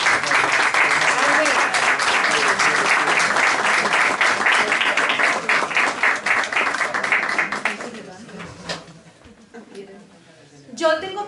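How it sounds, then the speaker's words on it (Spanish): Audience applause fills a room at a book presentation for a biographical novel, steady and loud for about eight seconds, then thinning into scattered claps with a brief final burst. "yo quiero que se levanten y les demos un aplauso"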